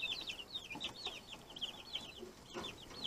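Several chickens at a coop cluck and chatter close by in quick, overlapping bursts, with a soft background hiss.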